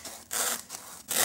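A knife slices through something on a cutting board in three short, close, rasping strokes with brief pauses between them.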